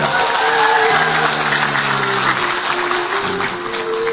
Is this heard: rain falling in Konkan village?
no